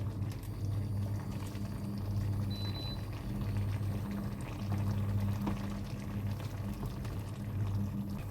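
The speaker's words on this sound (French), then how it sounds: "Et je laisse cuire 1 minute. Les gnocchis commencent à remonter à la surface." Gnocchi boiling in a pot of water, a steady bubbling churn with a low rumbling undertone that runs continuously at moderate level, no voices.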